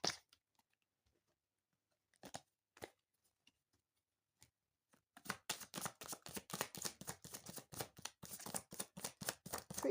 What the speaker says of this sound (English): I can't shuffle the cards, they're very heavy.